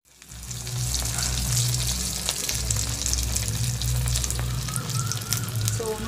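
Marinated cauliflower 65 frying in hot oil gives a steady, dense crackling sizzle throughout, close and fairly loud, with faint low kitchen hum beneath.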